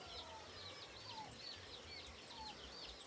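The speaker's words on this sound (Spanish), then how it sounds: "Aquí se guardan los pollos." Chickens cluck softly with occasional higher calls over a steady low rumble, continuous throughout at a moderate distance, at a ranch coop.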